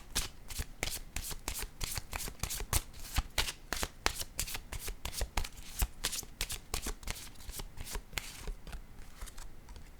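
Tarot cards are riffled and shuffled in rapid, crisp bursts close to the microphone, a dense continuous run of papery flicks and snaps with no voices.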